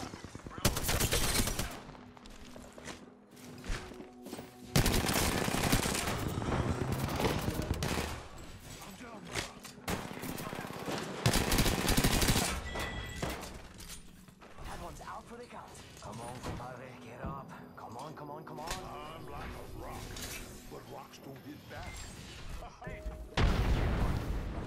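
Bursts of gunfire from Apex Legends ring out, with rapid automatic volleys and heavy booms recurring over about twenty-five seconds. The shooting is loud and dense, broken by brief lulls, and a player talks at times.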